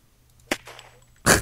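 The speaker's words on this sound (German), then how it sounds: "Ich hab einen Schuss gehört." Gunfire in the video game Unturned: two sharp, abrupt shots, the first brief and the second louder and fuller, separated by about three quarters of a second over a quiet background.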